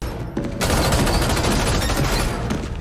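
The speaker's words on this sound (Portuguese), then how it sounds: "ser atingido por vários tiros de metralhadora não causa nenhum impacto?" Machine gun fire in a Batman film erupts after a brief lead-in into a loud, dense, continuous burst of rapid shots that runs almost three seconds.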